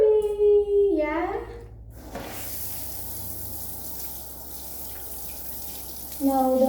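A pet dog being bathed under a running shower, steady water spray hissing close by for most of the stretch, with a voice and other speech heard at the start and end.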